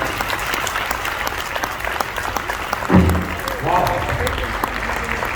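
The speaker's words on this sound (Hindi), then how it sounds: "मैं आप लोगों की जोरदार तालियों से बुलाना चाहूँगा श्री हेमंत मान जी और नितिन महाशय सर को जोरदार तालियों से प्लीज वेलकम" Audience applause welcoming speakers onto the stage at a motivational speech event in Goa, a steady dense clapping from a large crowd throughout, with brief louder bursts of cheering midway.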